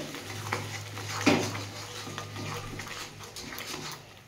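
A spoon stirs a watery moringa leaf mash in a pan over a raised flame, with a gentle continuous scrape and sizzle and one sharper clatter against the pan early on.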